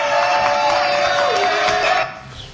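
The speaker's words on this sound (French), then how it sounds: "applaudissements pour Florian et le Camarguais" A French television studio audience gives applause and cheers for Florian and le Camarguais, a dense, steady wash of clapping that holds for about two seconds and then thins out near the end.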